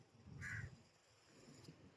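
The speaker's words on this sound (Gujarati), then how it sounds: "આ માહોલ છે મસ્ત, કબૂતર અને કાગડા ફરે છે." Crows caw outdoors along the Ahmedabad riverfront near Atal Bridge, one clear caw followed by a fainter second, set against quiet ambient background noise.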